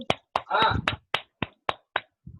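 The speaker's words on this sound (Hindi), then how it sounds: "हम चाहते हैं कि इनके सम्मान में एक बार जोरदार ताली हो जाए शंकर जी के लिए, जोरदार तालियां" An audience claps in honour of Shankar ji: about nine sharp, separate claps in an uneven rhythm, with a brief muffled burst of voice or noise among them.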